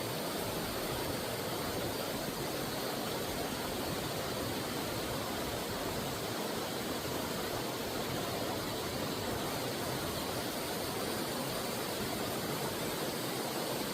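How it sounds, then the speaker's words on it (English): Water flowing steadily outdoors in nature, a broad unbroken rushing hiss that holds at one even level throughout with no voices. "and I just hear water."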